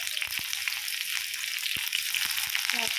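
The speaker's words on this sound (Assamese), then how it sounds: "তেলটো গৰম হৈ গৈছে, এতিয়া মই ইয়াত কাটি থোৱা পিঁয়াজখিনি দিম।" Chopped onions sizzle steadily in hot oil in a pan, a continuous broadband frying hiss with a few faint clicks and low background sounds, no talking.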